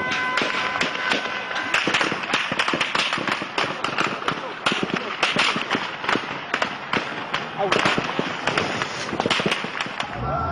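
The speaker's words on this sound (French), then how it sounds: "L'armée réplique à l'arme automatique." Automatic weapon fire crackles in dense, rapid bursts as an army fires back at protesters during unrest in Libya, sharp loud reports continuing throughout with no pause, and speech faintly in the background.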